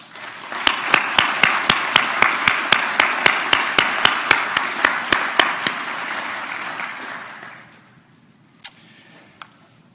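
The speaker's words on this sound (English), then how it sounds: "let's give them a big round of applause." Ceremony audience at a veterinary college white coat ceremony bursts into a loud round of applause with sharp rhythmic claps standing out over the crowd, sustained for several seconds before fading away, followed by a couple of isolated claps.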